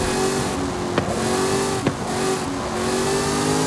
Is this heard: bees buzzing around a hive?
no